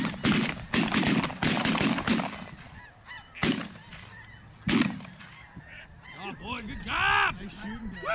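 Shotguns fire during a snow goose hunt, several sharp loud blasts in quick succession among dense honking from the flock, with honks continuing afterward.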